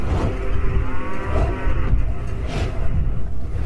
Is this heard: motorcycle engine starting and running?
no